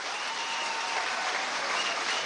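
Steady, dense applause from a crowd at a Venezuelan political rally fills the whole stretch at an even level, with no voices standing out.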